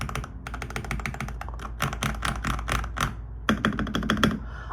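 Typing on a modded Wormier K87 clear-case mechanical keyboard with a deep sound: rapid, dense bursts of key clacks in quick runs with brief pauses, close up and with no voices.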